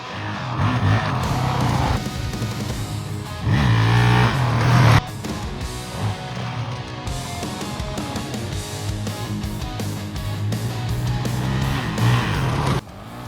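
Honda CRF450X off-road dirt bike being ridden, a loud, continuous engine buzz that rises and falls with throttle, with wind rush and a few sharp bursts, no talking.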